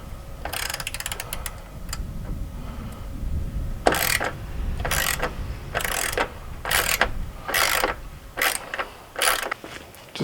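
A ratchet removing 10mm headlight bolts from a Jeep Wrangler, with rapid clicking pawl bursts and repeated rhythmic ratcheting strokes, close and loud, without talking.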